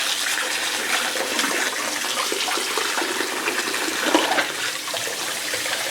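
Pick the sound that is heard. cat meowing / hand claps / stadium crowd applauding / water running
water running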